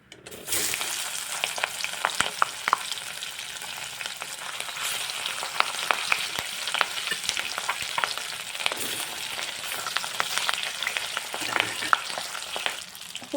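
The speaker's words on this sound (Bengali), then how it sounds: "ঠিক একইভাবে বাদবাকি মাছগুলো আমি ভেজে তুলে নেবো" Pieces of fresh silver carp fry in hot oil in a village kitchen, a steady dense sizzle running throughout with frequent small pops and crackles, close and fairly loud, no talking.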